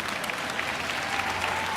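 Steady, dense applause from an audience fills the moment, a continuous wash of many hands clapping at even loudness with no voices rising above it.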